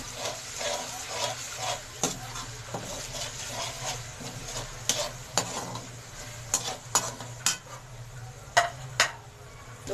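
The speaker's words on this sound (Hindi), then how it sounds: "दो मिनट तक लहसुन अदरक की भुनाई करेंगे" Garlic ginger paste sizzles steadily in a hot pan while a spoon stirs it, scraping and clinking against the metal at an irregular pace, close and moderately quiet.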